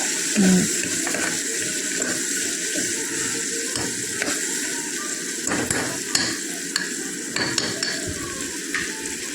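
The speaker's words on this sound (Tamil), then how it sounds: "நல்லா தக்காளி வந்து நல்லா அந்த பூண்டோட சேர்ந்து நல்லா மசிஞ்சு வேகிற அளவுக்கு நல்லா வதக்கிக்கிட்டே இருங்க" Tomatoes and garlic sauté in a pan until soft and mashed, giving a continuous close sizzle broken by repeated scraping stirs of a spatula against the pan, with no voices.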